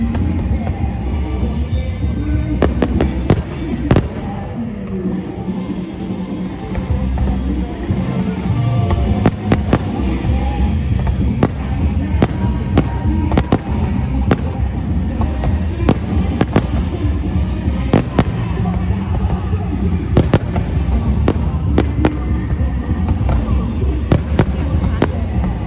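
Obon festival fireworks in Obihiro, Hokkaido, Japan: a dense, continuous barrage of booming bursts and crackling pops, loud and sustained throughout, with crowd noise in the background.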